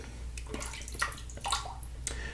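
Water added to a shave soap lather in a brush for use with a Gillette New Long Comb safety razor, heard as faint splashing and dripping in a few soft bursts against a steady low background hum.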